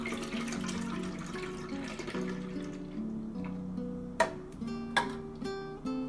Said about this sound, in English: We'll add evaporated milk